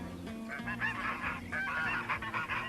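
A goose honks in a farmyard, several nasal calls in a quick irregular series, close and clear, with no talk over it.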